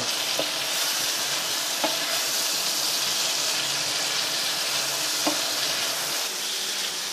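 Mushrooms with dried parsley frying in a pan, a steady loud sizzle with a few sharp clicks of the utensil against the pan as they are stirred, close up and without speech.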